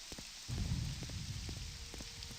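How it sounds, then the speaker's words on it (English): Rain begins falling in The Elder Scrolls III: Morrowind, a steady soft patter that starts abruptly and continues evenly, with faint ticking in the background. "it started to rain on me"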